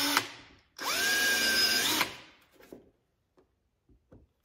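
A cordless power drill runs in one steady burst of about a second, its motor whine holding a constant pitch before winding down, during installation of a door storage bag on a 2023 Can-Am Maverick Sport Max; faint handling clicks follow.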